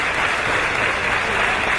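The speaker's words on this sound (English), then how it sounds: "Crowd urging Martin Stone, the governor, to get back to his feet" A wrestling crowd at a RevPro match roars and claps steadily, urging Martin Stone back to his feet, a dense continuous wash of cheering and applause without pause.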